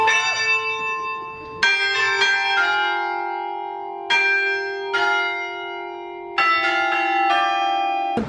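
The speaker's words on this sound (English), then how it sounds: "The bells just went off." Church bells ring in a church tower in Iceland, loud and close, with several overlapping strikes whose long metallic tones ring on and decay between hits.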